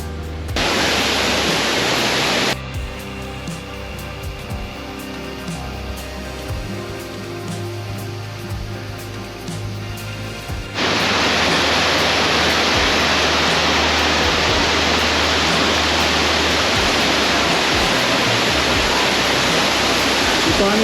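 Limutan Falls pours into a lagoon with a loud, dense roar of falling water. The roar drops to a quieter stretch partway through, then returns at full strength to the end.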